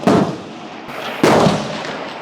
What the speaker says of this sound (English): let's just do a couple of shots standing and see if the ergonomics are any better